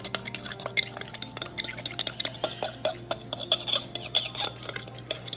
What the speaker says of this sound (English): I'll put a little more Cajun seasoning in here. Alright, mix this all together.